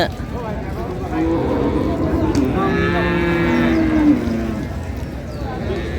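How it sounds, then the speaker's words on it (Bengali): Cattle low repeatedly at a busy village livestock market selling dairy cows and calves, with long drawn-out moos rising over a steady crowd murmur and people talking nearby. "এই যে একটা বয়স্ক গরু দেখতেছি"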